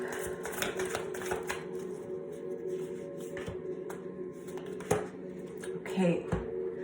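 Tarot cards are shuffled and drawn at close range, giving soft papery riffles, flicks and light taps on a table, with a faint hum in the room behind.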